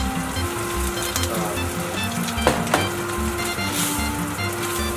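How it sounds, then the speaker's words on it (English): Rice stir-frying in a hot pan, a steady close sizzle with soft scraping of the spatula and a couple of sharp clinks midway, continuous throughout with no talk. "while we're stir frying the rice, we just need to add a bit of sugar"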